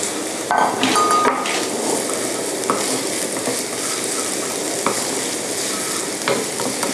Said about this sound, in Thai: แล้ว ผมก็ผัดหอมผมเลย